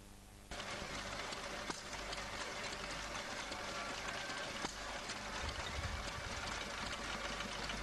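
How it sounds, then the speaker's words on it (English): A Petter Universal stationary engine fitted with a Victorian governor weight assembly runs steadily at a show, its rapid, even mechanical knocking close and continuous after a brief quieter start. "John has brought his Petter Universal engine."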